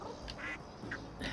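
Duck quacks in the video game Little Kitty, Big City, a few short nasal calls spaced through the clip over a steady game background.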